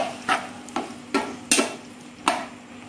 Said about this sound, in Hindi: अब हम मसाला बना रहे हैं और इसमें हम अपने प्याज जो हमने काटे थे वो डालेंगे